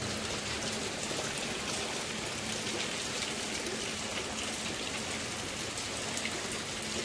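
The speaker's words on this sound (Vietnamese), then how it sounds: "trời đang mưa cả nhà ơi" Steady midday rain pours down without a break, a dense, even hiss of drops hitting surfaces, with no voices.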